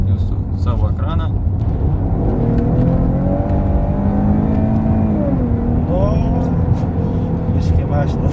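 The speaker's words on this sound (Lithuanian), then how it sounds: "V6 varikliukas su dviem turbinom." Maserati Ghibli with its 3.0-litre twin-turbo V6 revs steadily from inside the moving car, the engine note rising and falling as it pulls, with a short spoken word near the start.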